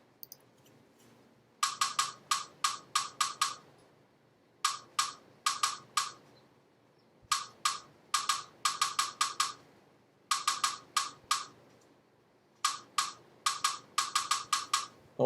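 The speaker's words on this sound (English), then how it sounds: "Here's the snare drum part again." A solo snare drum pattern played in repeated bursts of quick, crisp strokes, several hits per group separated by short rests, sounding close and clear with no one talking.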